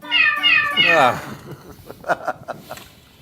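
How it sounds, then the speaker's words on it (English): A cat-like meow from a guitar effects pedal, a wavering pitched yowl sliding downward, followed by a few short clicks and taps. "Thanks, Brian, for the cat pedal."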